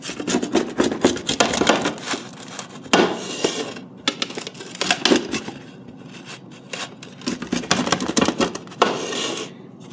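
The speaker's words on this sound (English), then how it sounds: "we let it rest for a few minutes, and we're gonna cut into it" A crispy thin-crust pizza is sliced with a blade, giving loud, dense, rough crunching and scraping in repeated bursts with brief pauses, very close and without talk.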